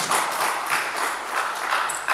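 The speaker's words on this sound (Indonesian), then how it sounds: "Beri tepuk tangan untuk Tuhan." Applause from a church congregation at a Sunday worship service fills the room, a dense, steady wash of clapping that holds at an even loudness for its whole length.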